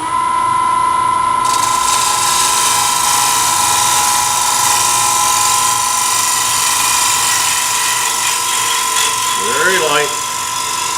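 A wood lathe spins a roughed-out wooden bowl while a bowl gouge takes a light cleanup cut, giving a loud, continuous whine and hiss that holds steady throughout.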